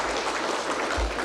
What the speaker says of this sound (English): Another round of applause for our sponsors